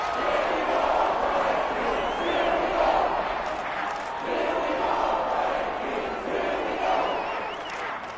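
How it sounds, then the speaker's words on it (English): A stadium crowd in a Madden football video game roars and shouts continuously, with a swelling, rumbling mass of voices that rises and falls as a commentator talks over it. "Plenty of shouts from this crowd as they watch the replay"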